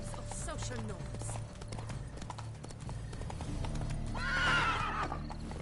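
A horse in The Witcher III video game, steady clip-clop hoofbeats of a gallop with a loud whinny near the end, set against a game background with soft voices early on.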